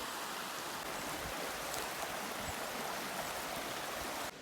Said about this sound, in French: je vais me laver le visage pour me rafraîchir un peu